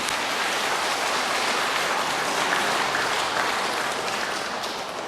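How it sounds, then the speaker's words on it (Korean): A church lecture audience applauds newly joined members, a steady dense wash of clapping from many hands, even in level throughout, with no talk heard. "박수 한번 쳐주세요."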